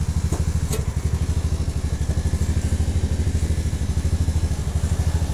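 A motorcycle whose burnt wiring has just been repaired, running at a steady idle close by with a fast, even, thumping pulse and a couple of brief clicks at the start, no talking.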